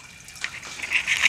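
Water from a saltwater aquarium skims off the surface into an overflow drain, a soft close trickling and gurgling flow that grows slightly louder over a second.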